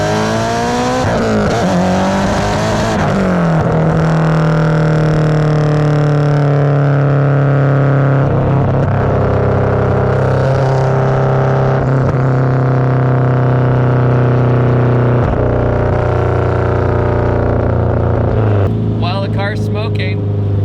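An 800 hp Subaru STI engine roars loudly and continuously through full-throttle pulls, its pitch climbing and dropping as it revs through the gears, and voices can be heard over the engine near the end.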